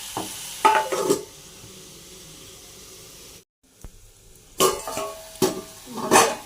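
Onions for a Kerala-style onion theeyal are stirred and sautéed in a pan, giving short scraping bursts of stirring over a soft background sizzle, with a brief pause before more stirring strokes resume.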